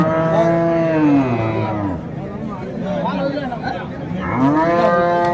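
HF and Jersey cows at a weekly cattle market in Punganur low loudly in long drawn-out moos, one at the start and another near the end, over a murmur of crowd noise.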